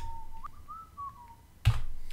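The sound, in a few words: person whistling a tune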